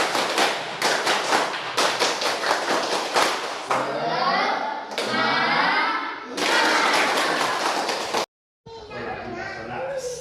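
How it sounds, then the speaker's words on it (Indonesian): A group of children in a classroom performs a rhythmic chant-and-clap spirit routine, loud and close, with bursts of patterned clapping mixed with shouted voices, then a brief silence. "Tepuk semangat."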